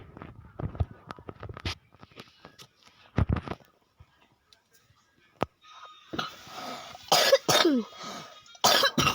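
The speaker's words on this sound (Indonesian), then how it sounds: "Maaf guys ya kalau kalian keganggu banget sama batuk aku" A child coughs several times in short, sharp bursts, with pauses between them. Game-like sounds play quietly underneath, and a few longer cough fits come later.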